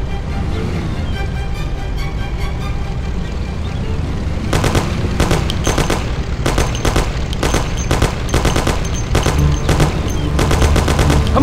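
In the Mafia video game, a Thompson submachine gun fires rapid clattering bursts over a continuous engine-like rumble. The shots grow denser and louder in the second half.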